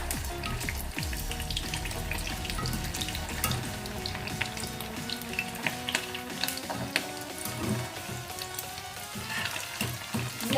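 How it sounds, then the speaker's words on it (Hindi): Potato balls fry slowly in ghee, giving a steady, close sizzling crackle with faint occasional clinks, continuing without any talk. "अब बॉल को फ्राई करते हैं।"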